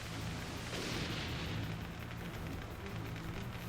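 Torpedo explosions in the naval game Warship Gunner 2, heard as a continuous dense rumbling roar of blasts that swells early and stays loud throughout.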